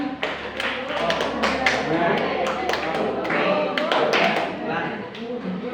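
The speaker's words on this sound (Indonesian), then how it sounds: "Beri tepuk keren untuk Bu Mila." Group of school teachers performing a rhythmic clapping chant in a room, sharp patterned claps ringing out close and loud over chatter and chanting voices throughout.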